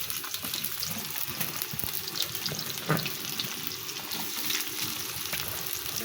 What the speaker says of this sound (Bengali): এই যে পেঁয়াজটা ভাজা হচ্ছে।